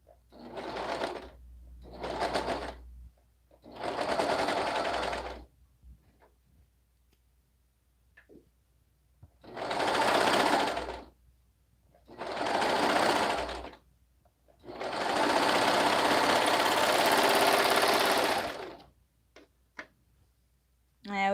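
A sewing machine stitches Etsy order items in repeated bursts of a few seconds each, with short pauses between runs and one longer final run, near and fairly quiet with faint clicks in the gaps.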